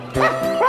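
Cartoon dog giving two quick, loud, close yips in a vehicle cartoon, high-pitched and bright.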